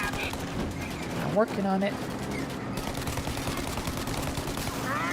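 Rapid automatic gunfire from a shooter video game, a steady rattling stream of shots running under a voice speaking briefly.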